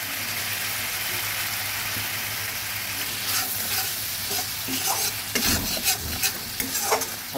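Spice masala cooked down with a little water in a pan for a Katla fish and potato curry: a soft continuous sizzle, then clattering stirs and scrapes of a spoon against the pan grow busier toward the end.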